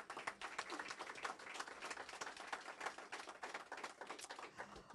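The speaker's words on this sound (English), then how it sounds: "So can we give her a round of applause?" Round of applause at an office grand opening in New Haven, dense continuous clapping from a gathered crowd, steady and fairly faint throughout.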